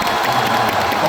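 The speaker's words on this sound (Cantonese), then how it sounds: "俾啲掌聲啊" Audience applause and light cheering from a crowd at an entertainment show fill a short burst, loud and dense from start to end.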